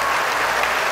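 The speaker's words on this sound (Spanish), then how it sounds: "vamos a darle un aplauso de estímulo" Dense, steady applause from an audience for Venezuelan foreign minister Nicolás Maduro, a continuous loud wash of many hands clapping with no gaps.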